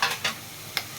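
Slit green chillies frying in hot oil in a pan for egg rice, a steady close sizzle broken by a few scraping stirs.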